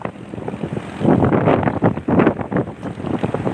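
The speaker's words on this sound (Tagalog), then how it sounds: "Mahangin pa." Gusty wind buffets the microphone with loud, uneven rumbling bursts that rise and fall, in Gumaca, Quezon.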